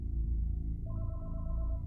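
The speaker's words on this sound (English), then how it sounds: "Then, the phone in the house began to ring" A house telephone starts ringing partway through, a steady warbling electronic ring that cuts over a low, continuous rumbling bed of sound.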